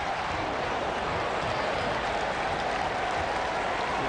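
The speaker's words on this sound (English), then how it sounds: "All of a sudden, this crowd is energized." Dense, steady roar of a big baseball stadium crowd at a Cardinals–Mets game, cheering and applauding continuously at full volume with no breaks.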